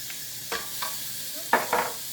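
Sweet potatoes sizzle in a pan while garlic and nutmeg are stirred in, giving a steady frying hiss broken by several scraping strokes of a utensil against the pan, close up with no voices.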